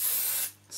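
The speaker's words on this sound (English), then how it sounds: "I'm just going to spray these together." 505 adhesive spray hisses from an aerosol can in two bursts, a long close spray followed by a short pause and a second brief spurt, while fabric pieces are glued together for wool felting.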